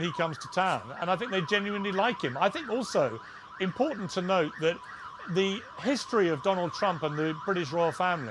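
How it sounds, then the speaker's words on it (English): A siren wails steadily in the background outdoors while someone talks continuously over it. "Apologies for the sirens going off behind me."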